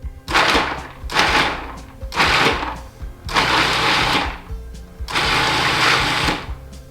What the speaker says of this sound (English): I am using a food processor. So I've got all my garlic in there.